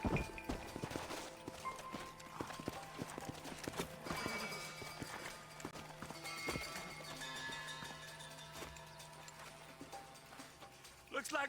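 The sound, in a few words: horses walking and neighing in video game Red Dead Redemption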